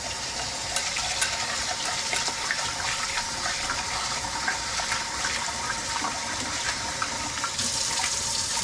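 Running tap water pours steadily into a pot of rice being rinsed for beef soup, a close, continuous splashing gush with no talk.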